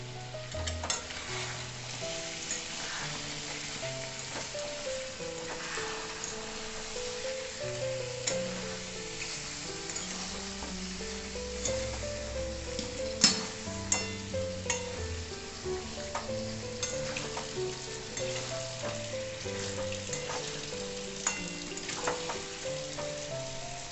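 Chicken with turmeric, whole green chillies and a splash of water fries in a pan as curry masala, a continuous sizzle broken by frequent stirring clatter and scraping of a spoon against the pan.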